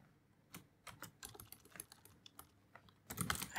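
Keywords are typed on a computer keyboard in close, quiet bursts of rapid key clicks with short pauses, ending in a quick louder flurry, and no talking.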